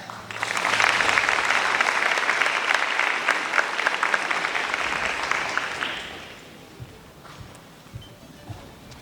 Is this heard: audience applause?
yes